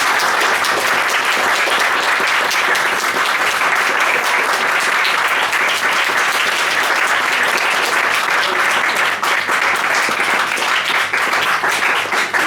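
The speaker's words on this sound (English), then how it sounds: "So just an enormous round of applause," A seated audience at a science café evening gives a loud, sustained round of applause after a talk, dense clapping filling the room without a break for the whole stretch.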